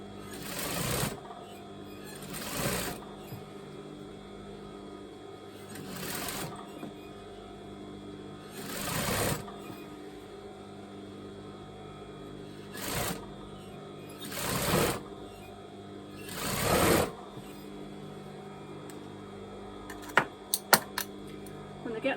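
A domestic sewing machine stitches a seam on a top being remade into a muscle back, running in several distinct bursts separated by pauses, moderately loud and close with a steady mechanical whir.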